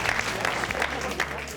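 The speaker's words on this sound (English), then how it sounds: "Big round of applause for that." A crowd of villagers in Denby Dale gives a dense, continuous round of applause, loud and steady throughout, with voices mixed into the clapping.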